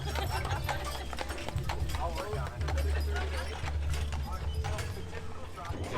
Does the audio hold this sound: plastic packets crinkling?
no